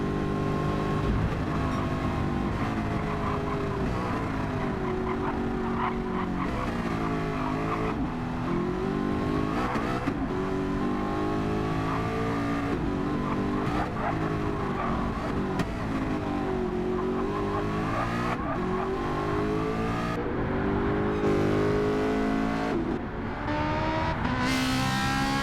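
Race car engine in Gran Turismo 7, a steady loud drone that rises and falls with throttle lifts and half-throttle acceleration through the laps, continuous and close, without speech over it.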